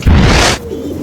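A brief burst of soft cooing and fluttering from fancy and racing pigeons close by, lasting about half a second before fading to quiet background.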